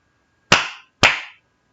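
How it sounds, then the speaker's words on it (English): Two sharp, loud hand claps about half a second apart, each with a short decay, marking the syllables of a word with no talking over them. "So for Excel syllables, you need to just clap your hands."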